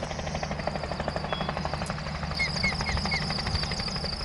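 A low-flying helicopter spraying mosquito chemical over a marsh thumps with rapid, steady rotor beats and engine whine, loud and continuous.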